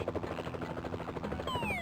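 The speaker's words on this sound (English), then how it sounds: "And yes, the bird made helicopter noises." A bird in a video game makes a helicopter noise, a steady rapid whirring chop that fills the short moment with a rising whine toward the end; no one talks.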